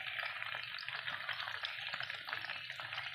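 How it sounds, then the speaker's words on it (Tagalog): Cubed tofu frying in a hot pan for a tofu, pork and bean sprout stir fry, a steady dense crackling sizzle with no talking. "So, unahin natin yung tokwa. Prituhin muna natin siya."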